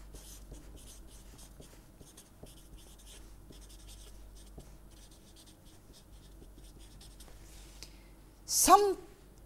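Chalk or marker scratching across a board during a lecture, soft repeated strokes and taps at low level, ending in a brief louder squeak.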